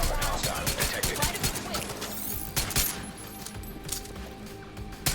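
Rapid gunfire bursts crackle through a Division 2 control point firefight, dense overlapping shots and clinks running throughout at moderate level with a voice talking in the mix.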